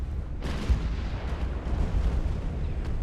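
Naval artillery gunfire in the warship game Ultimate Admiral: Dreadnoughts, a sudden heavy boom followed by continuous rumbling blasts and distant crackling explosions with no talking.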